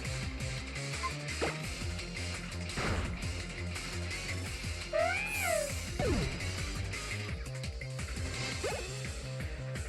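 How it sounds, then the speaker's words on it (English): A cat Pokémon slaps another cat in the video game Pokémon X, giving synthesized cat cries and a quick swooping effect over looping game music. A brief impact hit sits in the middle of the sequence. "the cat slapped the other cat, and it dealt like 3/4 of its health"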